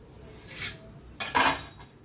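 A knife slices through stuffed bread patties, giving two short scraping cuts, a soft one and then a louder, longer rasp, close by with no talk.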